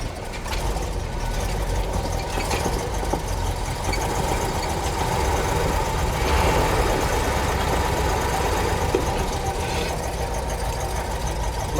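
The engine of a 1963 pink Cadillac limousine, pulled from a junkyard, runs at a steady idle on a hand throttle, a continuous close rumble with a faint knocking texture throughout.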